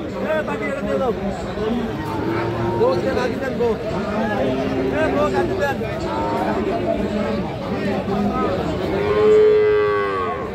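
Calves and cattle moo repeatedly at a busy cattle market selling Friesian and crossbred bull calves in Raniganj, the calls rising over a constant crowd chatter, with one long near moo toward the end.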